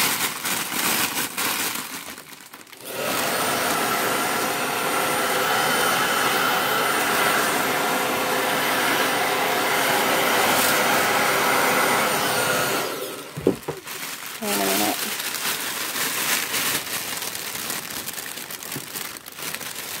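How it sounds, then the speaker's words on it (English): A blow dryer runs steadily for about ten seconds, heating a cellophane bag to shrink-wrap it around a Dollar Tree honeysuckle and green tea gift basket, with crinkling plastic and then soft handling sounds after it switches off. "now I'm gonna use my blow dryer to shrink wrap it around the basket"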